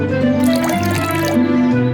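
Water dripping and trickling as flowers are watered in a garden, a steady liquid patter with scattered bright drips, close and fairly loud, under a sustained tonal background.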